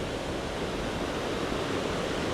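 Water drains steadily from city drainage into a lake, a continuous broadband rush like surf or a small waterfall that holds even and unbroken throughout, with no voices.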